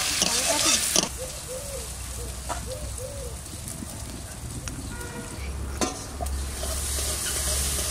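Onions with whole garam masala, cumin, dried chillies and salt sizzle in hot oil while being stirred, with scraping utensil clatter, a few distant bird calls and a low background hum.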